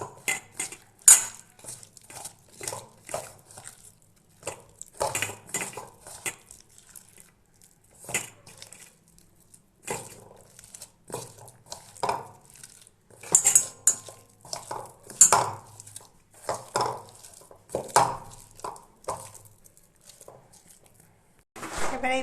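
Spoon clinking and scraping in a bowl while chopped onion is mixed into a gram flour marinade for paneer tikka, with irregular close bursts of stirring and clatter and a few soft voices.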